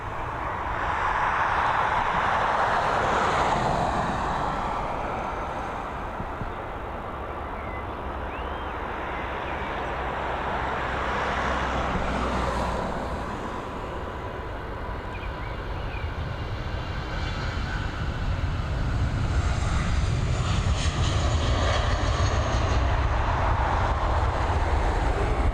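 An airliner takes off from Dublin Airport bound for London Heathrow, a continuous distant roar and low rumble that swells and fades over about twenty-five seconds and grows heavier toward the end, with no talk.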